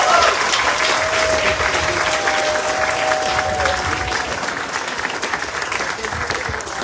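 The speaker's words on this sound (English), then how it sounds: "Give our children another round of applause." Crowd applause at an outdoor park ribbon-cutting ceremony in Oakland Park, a steady wash of many people clapping, fairly loud and continuous, with a faint tone and voices mixed in.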